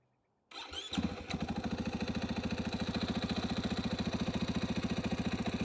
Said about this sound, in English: easy start every time, push the button.